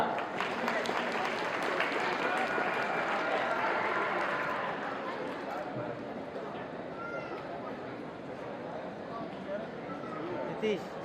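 An audience at a folk artists' award ceremony claps for a Cuddalore street-theatre performer, a dense, steady patter that is loudest early and eases slightly later, with a voice speaking over it.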